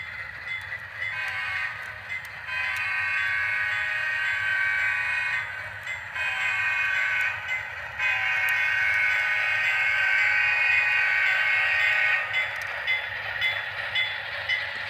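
An HO scale Dash 9 model locomotive sound unit plays a grade crossing horn pattern: repeated steady horn blasts with short gaps, over a low rumbling engine hum.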